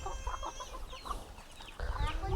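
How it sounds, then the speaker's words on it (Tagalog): Chickens cluck on a farm in Bulacan, several soft, scattered calls at moderate distance over low rumbling background noise. "Pakain tayo sa manok."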